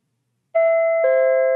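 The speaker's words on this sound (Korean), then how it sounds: "잠결에 초인종 소리가 들리는 것 같았지만 졸려서 일어나지 않고 그냥 잤다" A doorbell in a Korean horror video game rings with a clean two-tone ding-dong, the second tone sustaining to the end, loud and close with no voices.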